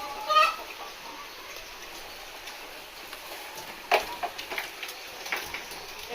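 Chickens cluck in a coop built above a catfish pond, a few soft, scattered calls standing out over a quiet, hissy background.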